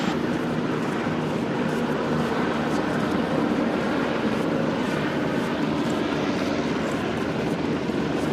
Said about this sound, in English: So that looks like a Chinook, or whatever their version is.